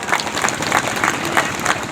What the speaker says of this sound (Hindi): जोरदार ताली होना चाहिए, जोरदार ताली